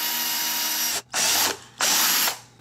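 A power drill bores a hole through a plastic bucket, used to build a self-watering container for peppers. It whines loudly in three sustained bursts, with short pauses between them.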